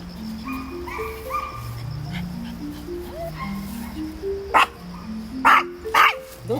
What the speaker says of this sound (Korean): 짖지 마, 우리 쫓겨나.